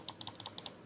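Small plastic clicks from a Razer Basilisk X Hyperspeed mouse button, about nine crisp taps in quick, slightly uneven succession, close and light with no talking.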